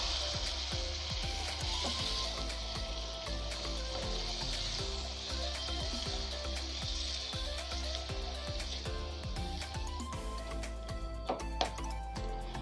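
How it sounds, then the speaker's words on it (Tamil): Grated radish being stirred in a pan with chilli powder, a faint, continuous sizzle and soft wet scraping that runs steadily throughout, with light clinks of a spoon against the pan. "இப்போ நம்ம கட் பண்ணி துருவி வச்ச முள்ளங்கியை இதில் ஆட் பண்ணிடலாம். இப்போது இதை வந்துட்டு நல்லா மிக்ஸ் பண்ணி எடுத்துக்கோங்க."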